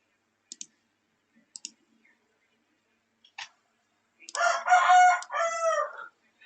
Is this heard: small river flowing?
no